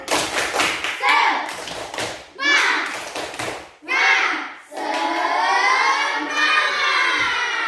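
Indonesian 'tepuk semangat' spirit clap led by a teacher with a class of children: bursts of rhythmic group clapping and thumps alternate with a voice giving instructions and the children chanting along.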